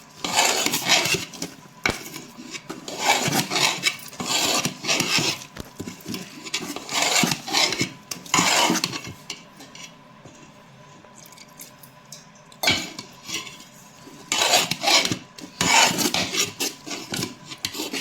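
A hand mixes stiff flour dough with salt and a splash of water in a bowl, making rhythmic wet squishing and rubbing strokes close up. The strokes pause for a few seconds and then start again.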